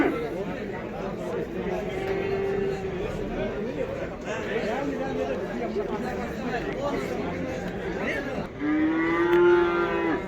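Calves low repeatedly at a cattle market in Karabulak, their moos rising over a steady crowd murmur, with one loud, close call near the end and people talking throughout.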